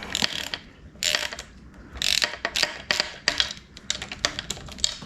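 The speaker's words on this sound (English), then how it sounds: "just got to get these bolts out" A hand ratchet works bolts loose on a Honda motor, crisp repeated clicking strokes in quick irregular bursts, close and clear with no talking.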